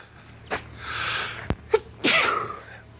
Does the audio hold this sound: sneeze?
yes